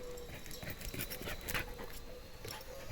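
A large dog whimpers and pants nearby in a quiet room, with short breathy pants and soft whines repeating over the stretch and no talk.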